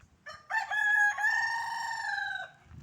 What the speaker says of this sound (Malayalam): ഇതൊക്കെ കോഴിക്കളാണ്